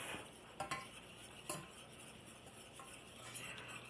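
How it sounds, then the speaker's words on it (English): A metal whisk works a butter and flour roux in a pan for a hash brown casserole, giving steady scraping with a few sharp metallic clinks and taps against the pan, close by with no talking. "I'm just going to whisk this until it gets really smooth"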